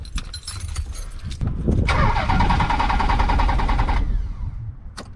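A Nissan 300ZX's starter cranks the engine for about two seconds without it catching, with short clicks and rattles of the key before and after, loud and close.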